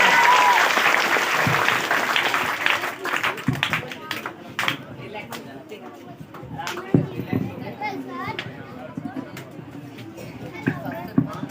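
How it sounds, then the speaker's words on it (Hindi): An audience of villagers, teachers and children at a coaching centre's school stage show breaks into loud applause that gradually thins into scattered claps, with children's voices and chatter mixing in as it fades. "चलिए जोरदार ताली बजाइए फिर से एक बार"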